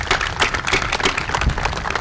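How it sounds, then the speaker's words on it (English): Audience applause at a school event, a dense, steady wash of clapping throughout, loud and close, with no talking over it. "Let's give everyone a round of applause again"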